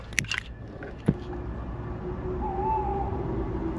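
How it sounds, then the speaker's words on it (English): An owl hooting in a forest at dusk at a campsite, a faint distant hoot heard over steady background noise after a few close clicks and handling sounds. "That was an owl."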